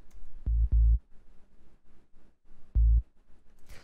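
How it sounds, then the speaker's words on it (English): A simple, sparse dub techno bass line plays as a few deep, round synth notes in short bursts with gaps between them, ending in a faint high hiss. "The next sound we have here is the bass,"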